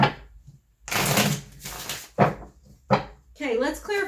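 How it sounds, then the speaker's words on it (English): A tarot card deck shuffled overhand, heard as a few close, papery bursts of cards slapping and sliding in short runs, followed by a brief voice at the end. "I'm going to shuffle this deck and then I'm going to overhand shuffle it"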